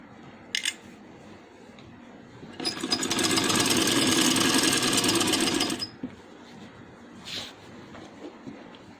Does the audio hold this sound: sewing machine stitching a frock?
yes